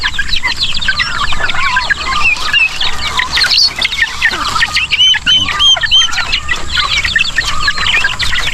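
Dense clucking and chatter from a flock of chickens and turkeys at feeding, continuous and fairly loud, with occasional higher calls rising above the crowd.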